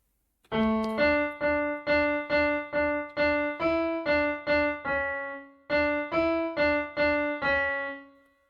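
A keyboard plays bars ten to twelve of the Ganesh Aarti as a steady run of separate melody notes, each attacked and briefly sustained, with a short pause partway through and a held final note.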